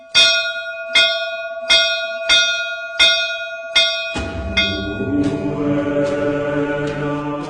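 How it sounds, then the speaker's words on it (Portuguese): A large, very old, powerful church bell in Bahia, Brazil, rings loud and clear with regular, evenly spaced strikes, its long metallic hum lingering, then several clangs blend into a dense ringing wash. "esse sino. Ele é bem antigo e tão potente que dá para ouvir o som"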